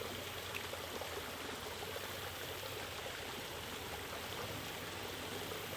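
Water runs steadily through a small spillway beside a highway, a constant broadband rush and trickle with no break, close and moderately loud.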